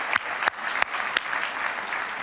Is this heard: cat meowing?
no